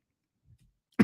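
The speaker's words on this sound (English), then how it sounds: "still coughing" After a near-silent stretch with a couple of soft low thumps, one short, sharp cough bursts out, fairly close and clear.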